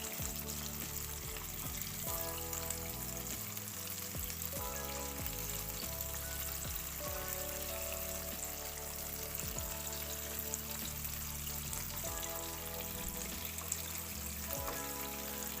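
Crispy KFC-style chicken wings fry in hot oil, a continuous dense sizzle and bubbling that runs steadily throughout at close range, with no talking.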